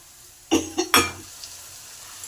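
Water poured into a pot of cooking dal, three quick splashing hisses in a row followed by a faint simmering background.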